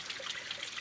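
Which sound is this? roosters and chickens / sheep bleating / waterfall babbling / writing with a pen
waterfall babbling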